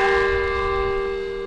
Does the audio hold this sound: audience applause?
no